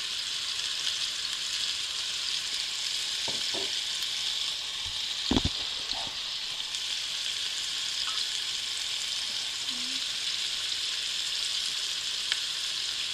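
Filet medallions sear in a hot pan with butter, a steady broadband sizzle running throughout with a few brief clicks and taps of tongs or utensils near the middle; no talking.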